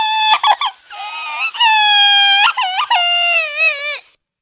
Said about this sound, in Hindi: तभी कुकू की रोने की आवाज आती है।